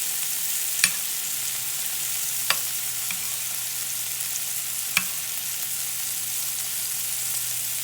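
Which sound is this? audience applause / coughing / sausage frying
sausage frying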